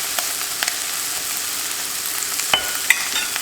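Flour is stirred into browned sausage in a frying pan: a steady bright sizzle with soft scraping strokes and a few sharp clicks of the utensil against the pan.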